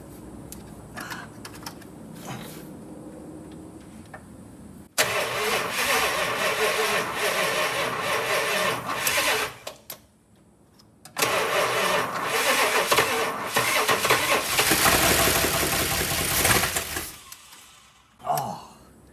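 A 1965 Imperial LeBaron, an abandoned Mopar under restoration with a weak battery, cranks hard in long continuous stretches that churn on without catching, loud and close with a brief pause between attempts.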